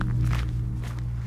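Footsteps walking through woods outside at night during a horror story, a steady low thudding tread under a continuous low background hum, moderately loud with no talk.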